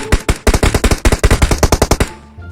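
Rapid automatic gunfire in the video game PUBG Mobile, a loud close burst of about twenty evenly spaced shots over two seconds, then the sound trails off into a short fading echo.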